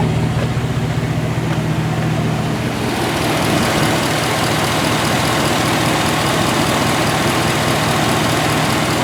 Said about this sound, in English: It's about 56 pounds now at an idle